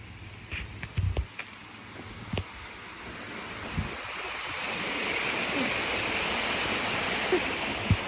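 Rushing water from a waterfall near a village home, a steady broadband roar that swells and fills the background, with a few brief knocks and thumps close by in the first seconds.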